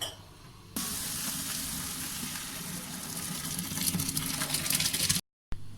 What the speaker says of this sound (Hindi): अब हम इनको निचोड़ लेते हैं, इनका पानी निकाल देते हैं।